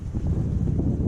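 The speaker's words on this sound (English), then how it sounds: "I think there's like 30-mile-an-hour winds out right now, so sorry for that" Strong wind of around 30 mph buffets the microphone outdoors near a fishing spot, a steady loud low rumble with gusty surges throughout and no other sound.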